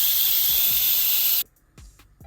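Steam hisses loudly and steadily from the pressure valve of a pressure cooker holding lentil soup, then cuts off abruptly, leaving a few soft knocks and faint background sounds.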